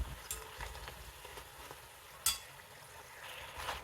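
Diamond cuts snack fries in oil while being stirred, a quiet bubbling sizzle punctuated by a few light scrapes and clinks of the utensil, close by and without speech.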